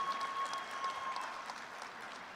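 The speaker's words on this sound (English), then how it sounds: "let's give her a round of applause" Crowd applause for a graduate at a college spring commencement: dense, continuous clapping from a large audience at moderate volume that stays steady and fades slightly toward the end, with a faint tone beneath it.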